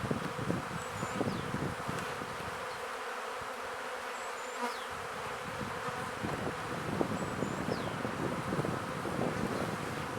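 Honey bees buzzing around an opened hive holding sunflower honey in late March, a dense, continuous close-up drone with a few individual bees flying past the microphone and light wind noise underneath.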